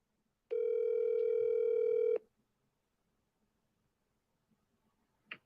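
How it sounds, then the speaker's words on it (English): A telephone dial tone sounds after a call disconnects, a steady loud hum lasting under two seconds, then near silence with faint small noises and a brief click near the end. "Hey, Kim, I think my phone got disconnected."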